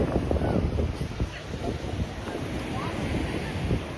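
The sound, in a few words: waves and wind at Calicut beach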